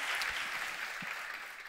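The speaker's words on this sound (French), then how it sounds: "Est-ce qu'on peut applaudir les services comptabilité?" Audience applause at a French motivational talk, a steady broadband wash of many hands clapping that holds evenly throughout at moderate loudness, with no voices over it.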